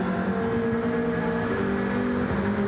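A Jaguar race car engine pulls hard up a hill on a track, a loud, close, steady droning growl with sustained tones that hold throughout.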